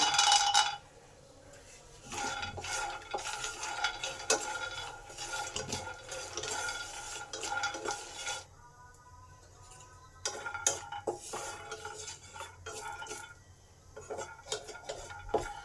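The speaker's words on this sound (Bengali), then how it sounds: "এবার বাদামগুলো ভেজে নেব।" Peanuts frying and being stirred in a pan for a red amaranth greens dish, with repeated scraping and clinking of a utensil against the pan in irregular bursts, close and moderately loud, no talking.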